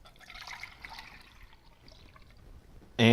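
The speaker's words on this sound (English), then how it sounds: "I'm gonna pour this out here." Coca-Cola and milk mixture poured out, a soft liquid splashing and trickling sound that fades, then ends with a sudden loud noise.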